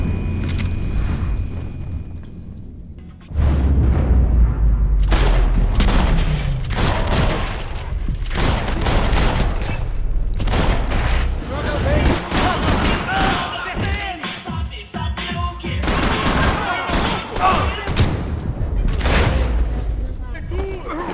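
AK rifle gunfire and explosions fill a Max Payne 3 video game firefight, dense loud bursts and booming thuds layered with crowd-like noise and chaotic effects.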